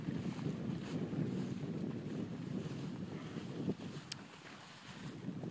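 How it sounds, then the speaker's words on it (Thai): Steady wind rushes and buffets the microphone outdoors on a mixed-crop farm, a continuous low roar with faint background noise and a brief tick near the end. "ลมเย็นสบาย"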